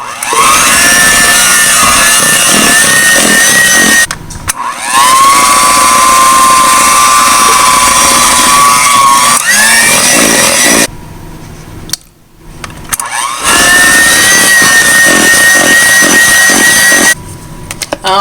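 An electric mixer whirs loudly close by while blending eggs into strawberry cream cheese pound cake batter, running in long bursts with brief pauses and pitch changes, no talk.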